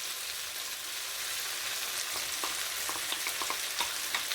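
Tomatoes frying in a pan for a Tunisian méchouia salad give a steady, dense sizzle with scattered sharper crackles and pops, close and continuous throughout with no voices.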